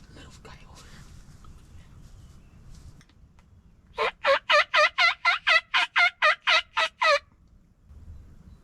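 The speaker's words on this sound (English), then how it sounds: "we are surrounded by so many birds, but just as many gobblers there are hens. Like, hens yelping so close" Wild turkeys in Wisconsin spring woods gobble in a loud, close burst of about a dozen rapid, rhythmic pulses, preceded and followed by faint whispering and low rustle.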